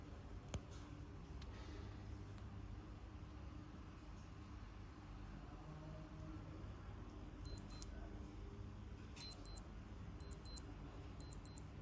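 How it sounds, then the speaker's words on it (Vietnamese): A titanium wristwatch alarm beeps in short repeated high pulses, faint at first and then clearer in spaced bursts near the end, over a low background hum. "Nãy giờ là nó báo thức nó kêu liên tục rồi nè."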